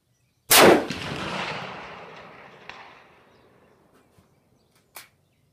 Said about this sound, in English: Three shots, 540 yards with my Savage Striker.